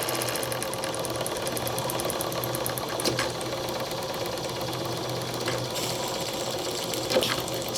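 A live steam engine in a model steamboat runs slowly, giving a steady mechanical chugging with fast rhythmic ticking, close and constant, with a couple of brief louder knocks and no voices.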